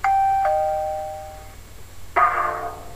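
A doorbell chimes a clear two-note ding-dong, the second tone ringing out and fading slowly; a brief, noisier burst of sound follows after a short pause.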